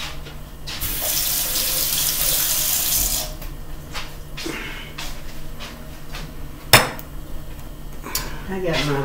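Cold water runs steadily from a kitchen tap for about three seconds, then stops, followed by light clinks of dishes and cutlery and a few soft knocks.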